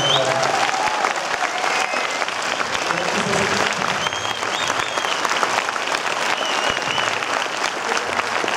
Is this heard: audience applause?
yes